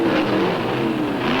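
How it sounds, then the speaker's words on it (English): Drag racing cars launching at the 1971 Winter Nationals, a new Roadrunner against an FMP Chevrolet, with a steady loud roar of engines throughout, no talk. "Don Gross's brand new Roadrunner going against national champion Carroll Caudle in his FMP Chevrolet."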